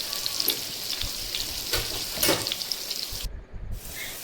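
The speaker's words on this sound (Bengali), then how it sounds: "আলুগুলোর মধ্যে নুন হলুদ দিয়ে লালচে লালচে করে ভাজা করে নেব" Potatoes with salt and turmeric sizzling steadily in hot oil, a dense crackling hiss with occasional stirring scrapes, close by and without any voices.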